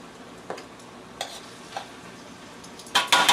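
Shirataki noodles and sauce are stirred in a frying pan, soft sizzle under a few light scrapes, ending in a louder burst of frying, with no voices.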